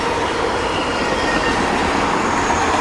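A fast CSX freight train hauling empty auto rack cars rushes past close by, a loud continuous roar of wheels on rail with faint squeal and rattle, steady from start to finish.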